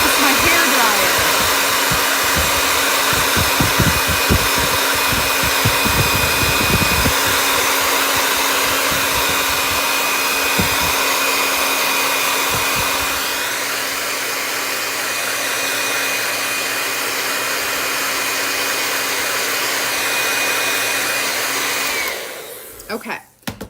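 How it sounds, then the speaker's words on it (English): A household hair dryer blows in a loud, steady roar for over twenty seconds while drying craft work, then clicks off abruptly at the end. "It's my hair dryer."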